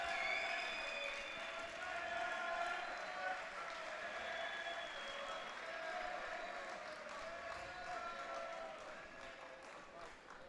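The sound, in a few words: crowd cheering at judo championship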